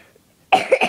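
After near silence, a short burst of coughing breaks out close by, two or three rough hacks in quick succession.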